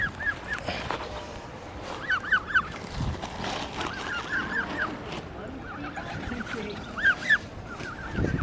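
Hungry geese and other fowl honk and call repeatedly nearby in short, clustered bursts over steady outdoor background noise, with occasional low thumps.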